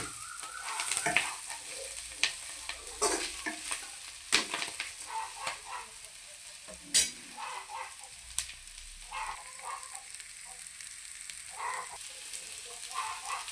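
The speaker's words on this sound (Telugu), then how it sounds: "ఈ ఉల్లిపాయలు ఒక రెండు నిమిషాలు మనం వేపుకున్నాం" Onions with a pinch of turmeric fry gently in a pan for a drumstick leaf fry, a soft low sizzle with intermittent scraping as a spoon stirs slowly, fairly quiet throughout.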